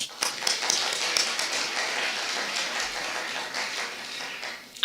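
Keynote audience at a UWC Africa Week event clapping together, a dense, steady wash of many hands that fills the whole stretch at moderate loudness, with sharper individual claps standing out near the start.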